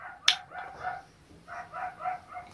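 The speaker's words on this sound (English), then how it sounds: "next door dogs are barking" Several dogs next door bark a few times at a distance, faint and muffled.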